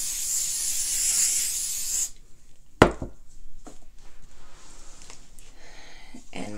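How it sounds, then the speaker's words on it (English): Spray bottle misting onto a wet painted canvas for Q-tip painting: a steady close hiss for about two seconds, then quiet with a sharp tap and small handling noises. "The paint is already wet, but I'm still going to spray."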